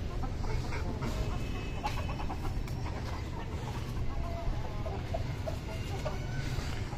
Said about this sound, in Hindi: मुर्गे भी सारे एक्टिव हैं माशाल्लाह, परिंदे सारे एक्टिव हैं